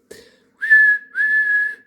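A short faint note, then two sustained clear whistled tones, each held for about half a second, steady in pitch.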